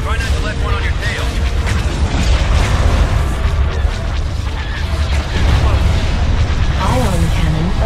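Heavy booming blasts and crashing impacts from ion cannon fire in the Star Wars space strategy game Empire at War, rumbling continuously amid layered battle effects and sweeping whines, with voiced unit chatter mixed in.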